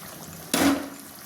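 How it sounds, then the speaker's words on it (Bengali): Water splashes into a simmering jackfruit and prawn curry in one brief, close gush that quickly fades into a low bubbling. There is no speech. "একটু ফুটবে, আর একটু জল দিচ্ছি আমি।"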